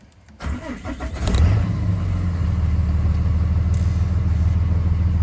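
A truck engine with 264,000 miles cranks briefly, catches, and settles into a loud, steady low rumbling idle close by.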